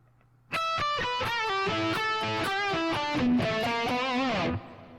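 An electric guitar plays a quick blues lick from a song's solo, a run of picked and bent notes with slight grit, ringing out clearly on its own.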